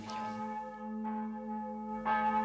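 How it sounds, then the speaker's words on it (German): Evening church bell ringing over a Sudeten German settlement in 1957, from an old film recording: steady sustained tolling with overlapping hum, struck roughly once a second, alone with no voices. "Das ist nicht unsere Glocke. Das hört man."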